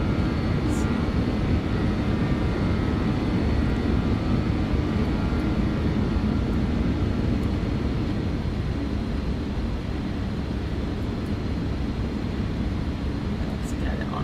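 A BAe 146 airliner's engines at takeoff power in the X-Plane 12 flight simulator, a steady loud roaring drone that holds level throughout, with someone talking over it now and then.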